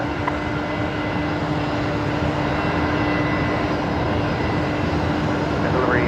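Aircraft Dragon 41 taxis at Brisbane Airport at night, its engines giving a steady, continuous hum and rumble at moderate distance with no strong changes across the stretch.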